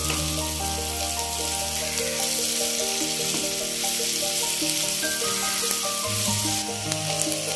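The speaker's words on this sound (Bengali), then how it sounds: "পেঁয়াজটা আমি 3 মিনিট খুব ভালোভাবে ভেজে নিয়েছি।" Onions sizzle and fry steadily in a pan with a tablespoon of salt, a constant close, bright crackle with occasional stirring scrapes, no voices.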